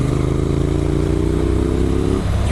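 Heavy motorcycles with loud exhausts roar continuously at around 100 km/h on a bush road, a steady close engine drone that drops in pitch near the end.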